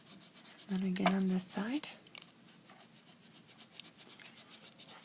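Repeated rubbing strokes from sanding and smoothing a miniature baking pan made for charms and doll houses, fairly quiet and close, with a person talking briefly over the first half.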